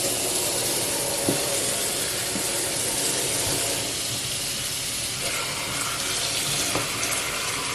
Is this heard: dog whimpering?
no